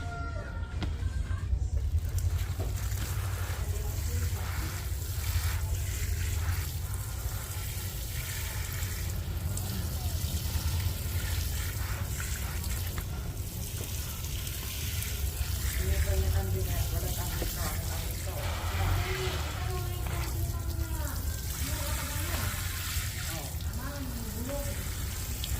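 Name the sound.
watering pechay plants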